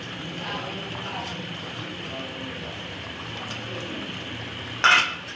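A teasel gourd, potato and fish curry with coriander leaves, stirred briefly in a pot: soft spoon scraping and a simmering hiss, ending in a sharp metal clink, with a voice speaking over it.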